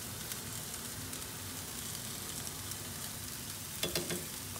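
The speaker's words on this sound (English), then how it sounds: "Then we'll go ahead and start stir frying and mixing it all together." Salt and pepper chicken wings stir frying in a pan, a steady close sizzle and crackle with a few louder clatters of stirring near the end, no voices.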